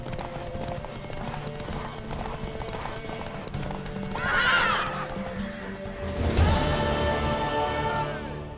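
In the video game The Witcher 3: Wild Hunt, steady hoofbeats clip-clop over a busy game soundscape, then a horse neighs loudly about midway, followed by a crash and more rumbling activity.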